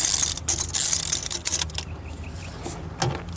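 Ratchet tool clicking rapidly while tightening a cap on a Ford F350 truck, loud close bursts of ratchet clicks in the first half, then quieter intermittent clicks and handling noise, with no talking.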